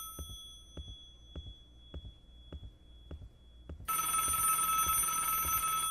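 A telephone rings inside the Roblox game ALONE, a steady series of evenly spaced ringing pulses under a sustained tone that gives way to a sudden louder wash of game noise.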